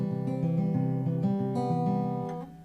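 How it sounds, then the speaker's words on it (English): Acoustic guitar fingerpicked in a straight Travis-picking pattern, playing a song intro. Quiet, close arpeggiated notes ring in a steady rolling rhythm, alone, and fade at the end. "if you play it just straight up Travis picking, it'll sound like this"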